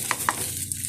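Leftover rice being recooked in a pan for garlic fried rice, a brief close stretch of soft sizzling with a few light scrapes of stirring.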